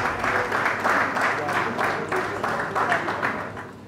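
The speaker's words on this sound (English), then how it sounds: "you can please give the man of God a warm round of applause, please" An audience at a book launch gives a warm round of applause for a clergyman, dense clapping in uneven surges close by, with some voices mixed in.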